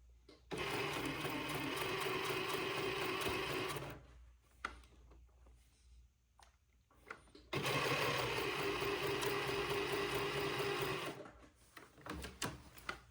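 A sewing machine runs in two long steady bursts while stitching a seam with a quarter-inch allowance on baby clothing, close and continuous, with a short pause of small clicks and handling noises between the runs.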